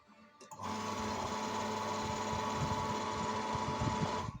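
A repaired home mini water pumping station, which had seized after five months, is switched on and runs with a steady, even mechanical whir and hum after a short click, continuing alone for several seconds.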